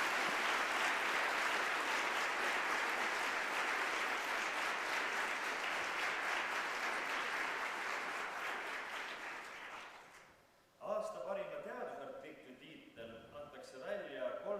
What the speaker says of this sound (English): Let's give a big round of applause to the Researcher of the Year of the Technical University of Estonia,